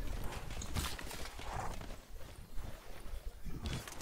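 Horse hooves from a riding unit in the video game Civilization 6 clip-clop in quick, repeated bursts over a murky, wind-like game ambience, moderately close and fairly quiet.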